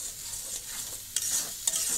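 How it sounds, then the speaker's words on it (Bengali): Chicken bora curry with turmeric, salt and spices is stirred in a pan, giving a soft steady sizzle with a couple of sharper scraping clicks of the spoon. "দিয়ে এটা আমি ভালো করে নাড়াচাড়া করবো"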